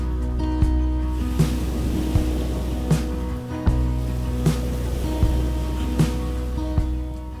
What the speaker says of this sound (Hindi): हमारा बोट आ चुका है।